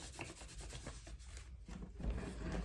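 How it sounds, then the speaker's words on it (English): A sponge wiped across houseplant leaves while cleaning them for pest prevention, giving close, soft rubbing and scrubbing strokes in an uneven rhythm, quiet and without talk. "So I'm just going in here and just wiping the leaves off with the sponge"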